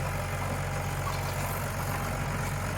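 A Ford 7840 tractor with a six-cylinder, 105-horsepower Power Star engine idles in a steady, even low rumble, close and unbroken, with no talking.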